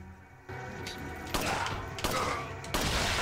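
Pistol gunfire in the video game Resident Evil 4: three sharp, loud shots spaced roughly half a second to a second apart over a steady game background.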